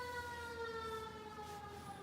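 A fire truck siren blares loud and continuous, its steady wailing tones sliding slowly downward with nothing else heard.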